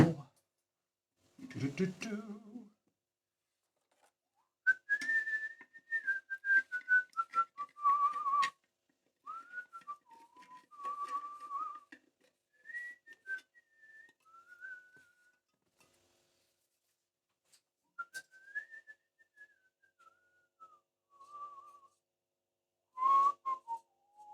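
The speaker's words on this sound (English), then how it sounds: "what tune am I whistling?" A person whistles a melodic tune in a guitar luthier's workshop, phrases rising and falling with short pauses, close and clear, preceded by a brief low knock or thump.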